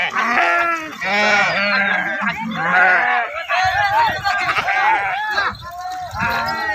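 Sheep bleating repeatedly and loudly while being bathed in a ritual ceremony for Ekadashi, the wavering cries overlapping one another, with people's voices mixed in.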